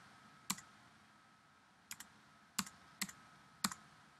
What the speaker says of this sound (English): I have a Mac keyboard, so I'm going to hit the delete key